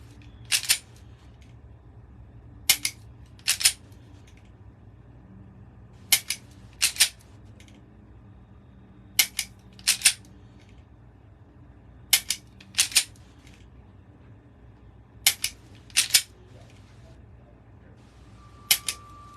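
Mantis X10 laser dry-fire training system registering trigger pulls: about ten sharp, short clicks, most in close pairs, spaced every couple of seconds over a low steady background hum, with no voices.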